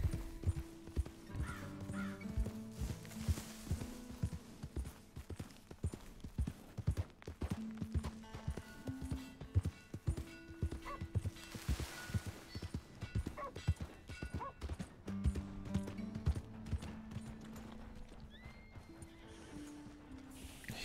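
Horse hooves in the Red Dead Redemption 2 video game, a steady clip-clop of a stolen horse under whinnies and game music, with faint talk in places.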